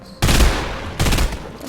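Two heavy shotgun blasts in a video game, loud and close, the first at the start and the second about a second later, each with a booming low-end and short decaying tail.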